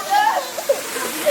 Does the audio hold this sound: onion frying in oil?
no